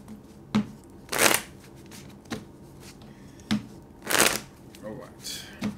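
Tarot cards being shuffled in several quick riffling bursts, close by, with short pauses and soft handling noises between them.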